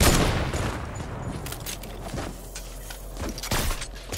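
Gunfire from the video game Fortnite: a dense, loud run of shots and booms that barely pauses, with no voices.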